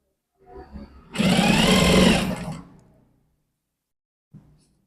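A sewing machine runs in one close, loud burst of about a second and a half while stitching the collar of a men's kameez, starting and stopping cleanly, with a soft handling knock just before it and another after.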